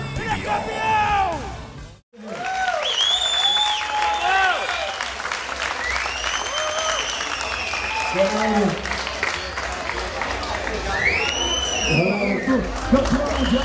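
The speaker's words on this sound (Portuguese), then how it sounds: "Dá-lhe a salva de palmas a ele, Cajamar!" A large crowd in Cajamar, Brazil applauds loudly and continuously for a PBR bull-riding champion, with cheers, whoops and shouts rising over the clapping throughout.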